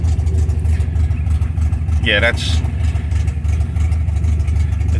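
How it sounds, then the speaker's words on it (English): 1972 MGB engine idling roughly, a close, loud low rumble with an uneven pulsing beat; a brief voice cuts in partway through. "I got to have it idling smoother than this."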